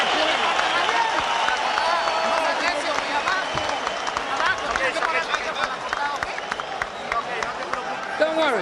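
Crowd at a boxing match between Injin Chi and Erik Morales, rising to its feet with sustained cheering, clapping and roaring throughout, with a commentator talking over it.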